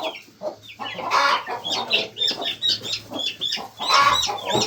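Barnyard chickens cluck and chatter in a coop, several birds close by with repeated short clucks and squawks in uneven bursts, loud and busy throughout.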